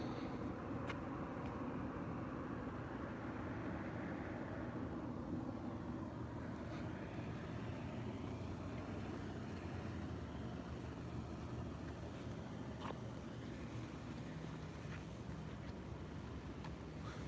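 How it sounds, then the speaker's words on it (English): A helicopter flies not far off over Minneapolis after curfew, a low, continuous drone that slowly shifts in pitch as it passes, faint and distant against steady outdoor background, with no voices. "There's a helicopter over there, so that's not too far."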